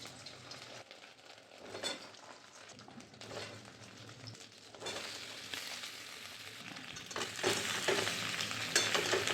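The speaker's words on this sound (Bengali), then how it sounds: "আমি এবার এগুলো তেলে দিয়ে দিচ্ছি।" Potato pieces, some halved and some whole, fry in hot oil for an aloo dum, a close, continuous sizzle that swells louder midway and again toward the end, with occasional stirring.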